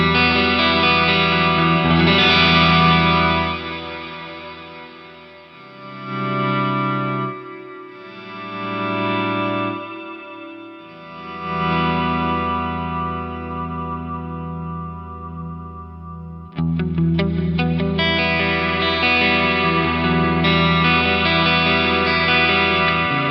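Guitar chords played through an Eventide H90 with chorused, modulated reverb, the notes swelling and wobbling with a lush wash that rises and falls in loudness over several passages, no voices.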